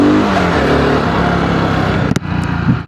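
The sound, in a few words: BSA Scrambler 650 motorcycle accelerating in first gear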